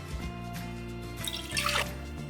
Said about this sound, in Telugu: ఇది ఫస్ట్ నీళ్ళు పోసేద్దాం